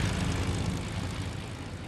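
An airplane in the video game Fortnite drones steadily with a broad, even engine roar that holds at a constant moderate level throughout, with no speech over it.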